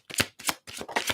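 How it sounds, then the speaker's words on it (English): A tarot deck is shuffled in four quick riffling bursts close to the microphone, each a crisp papery flutter separated by short pauses. "As soon as I started shuffling"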